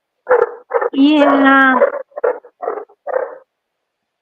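A Great Pyrenees puppy lets out a few short barks followed by a longer, drawn-out grumbling whine, close and fairly loud, with people talking nearby.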